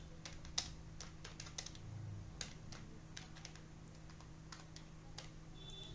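Python code being typed on a computer keyboard: quiet, irregular clicks of keys pressed in short bursts, close by, over a low steady hum.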